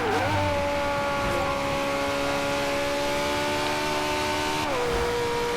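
Race car engine in Forza Horizon 2 holding a high, steady whine while cruising past other cars, with a gear shift dropping the pitch near the end, loud and continuous.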